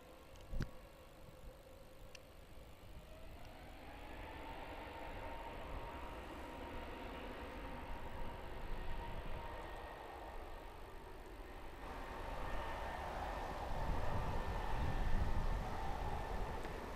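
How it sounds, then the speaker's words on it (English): A distant airliner taxis down the runway toward takeoff, its engines a low steady whine and rumble that slowly builds, with a rising tone and growing roar in the last few seconds. "let you hear the sound of those engines"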